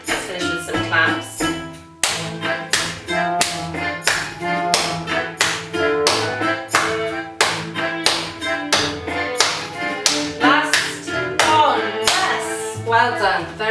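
A group claps along in sharp, steady rhythm to close a creative dance and movement session, the claps loud and close, repeating in quick regular bursts over a music-like tonal background throughout.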